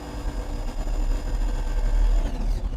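A GMA T.50 supercar engine drones loudly and steadily at about 5,000 rpm in fifth gear with the windows down in a tunnel, a deep, sustained roar with road rumble and no talk.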